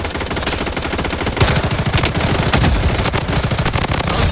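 MP5 submachine gun with a blue skin firing in the mobile shooter BloodStrike, loud sustained rapid automatic bursts up close, rattling continuously with dense overlapping shots and no talking.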